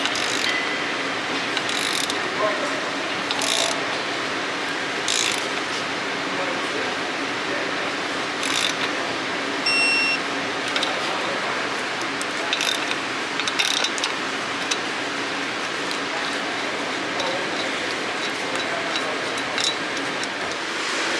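Ratchet tightening nuts on an aluminum engine skid plate of an Audi S5, a steady run of fast mechanical clicks close by with a few louder knocks, with no talking.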